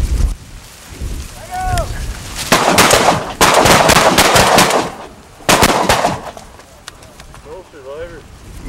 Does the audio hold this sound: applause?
no